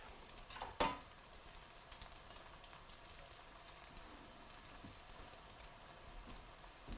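Corn fritters fry in grease in a pan, a faint, steady crackling sizzle like light rain, with one brief louder clatter near the start.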